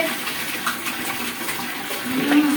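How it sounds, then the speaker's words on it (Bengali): Water poured over a beagle's belly during a bath on a hot day, a steady splashing gush running without pause and growing slightly louder toward the end. "পেটটা জল দিই, পেটটা ঠান্ডা হবে।"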